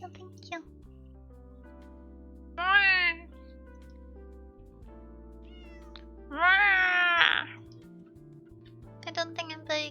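A voice imitating a cat, giving two drawn-out mock meows with rising and falling pitch between stretches of quiet background tones and brief spoken sounds.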